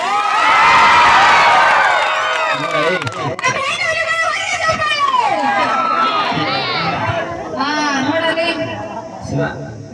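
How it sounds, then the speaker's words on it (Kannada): A live comedy show audience bursting into loud cheering, shouting and applause, a dense crowd roar that swells and stays strong throughout. "ಒಂದ್ಸರಿ ಜೋರ ಚಪ್ಪಾಳೆ ನಮ್ಮ ಹುಲಿಗಳೇ"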